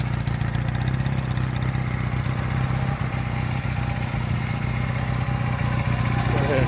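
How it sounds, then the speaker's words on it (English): A 1975 Honda CB200T twin motorcycle engine idles steadily with an even, low, throbbing rumble and light mechanical clatter, close and continuous throughout. "Again, it's 1975 Honda CB200T."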